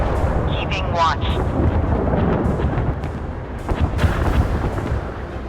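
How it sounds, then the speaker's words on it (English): Missile launch and impact in the Force of Warships naval battle game, with a deep rumbling blast and booming low roar, under synthetic voice announcements and chirping interface tones. "Missile launched. Target hit. Target destroyed."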